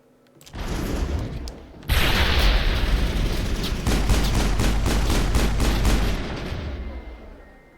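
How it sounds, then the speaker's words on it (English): Rapid pistol gunfire in the sci-fi shooter Mass Effect, a dense continuous barrage of shots with booming impacts, loud and sustained for several seconds before cutting off. "My pistol doesn't seem to do a whole lot of damage either."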